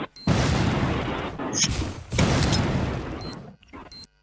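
Gunfire in the shooting game Free Fire, bursts of rapid shots and booming impacts in two main clusters separated by short gaps, loud and close, with brief high electronic game tones between.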